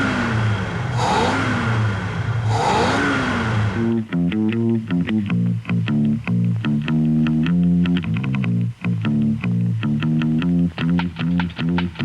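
A Ford Falcon GT XY with a protruding shaker air intake sits near, its big V8 droning loudly at first, then revving hard in rapid repeated bursts with a rough, rhythmic exhaust note.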